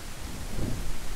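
Video-game rain and thunder from Beasts of Bermuda: a steady hiss of rainfall with a low, brief rumble of thunder swelling in the middle of a short stretch.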